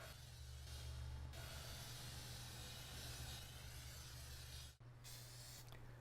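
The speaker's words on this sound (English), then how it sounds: "I'm going to spray it with a good coating of non-stick baking spray." Non-stick baking spray hisses into a cake pan in two steady bursts, faint and close, separated by a brief pause.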